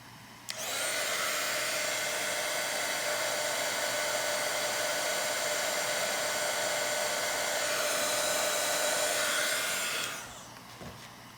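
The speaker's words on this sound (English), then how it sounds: "maybe if I just warm that compound a little bit with this heat gun" A heat gun runs steadily for about ten seconds, warming balancing compound on a Coble balancer. It gives a loud, continuous blowing whine that starts abruptly and then fades out at the end.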